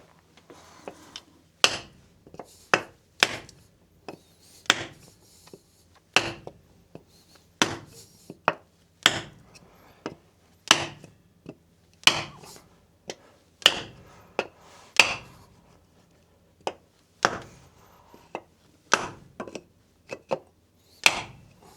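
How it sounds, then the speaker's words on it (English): A soft copper punch is struck with a hammer against a block of wood in about two dozen sharp, close, solid knocks, coming singly and in quick pairs at an irregular, unhurried pace, with no talking. "we can take a soft copper punch, and we can punch these a bit, try and shock everything a little bit"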